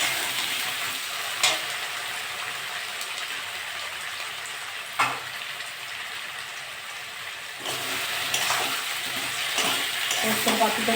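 Potatoes fry in a pan for aloo posto, with a steady, close sizzle throughout and occasional sharper stirring scrapes at intervals.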